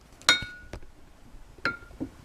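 A utensil stirs RumChata and vanilla extract in a cup, giving a few light, ringing clinks against the side, soft and close with pauses between strikes.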